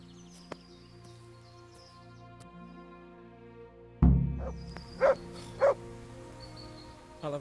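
A dog in the video game Kingdom Come: Deliverance gives one loud bark followed by a couple of short yips over a quiet droning game soundtrack.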